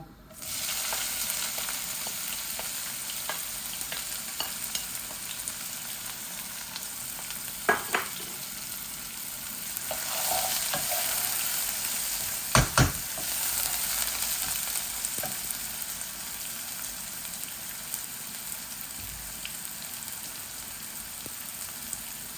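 Dry spices and onion fry in a pan with a continuous soft sizzling hiss, broken by a few sharp clinks of a utensil against the pan, with no talking.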